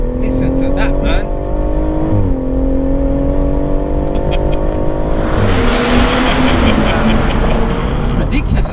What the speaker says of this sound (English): most of that's the exhaust sound you can hear